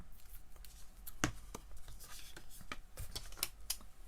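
Scissors trim the corners of paper at a craft table, a quick run of small close snips and crisp paper rustles, faint and irregular.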